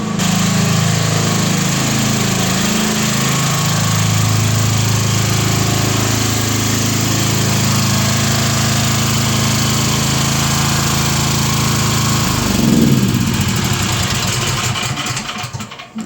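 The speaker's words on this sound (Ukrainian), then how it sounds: "Ось запустився наш теплопункт, наше живлення від генератору. Зараз ми на генераторі." Emergency generator running to power a boiler house heating system, a loud steady engine drone with a rough mechanical rumble, briefly surging near the end as it takes load, no talking.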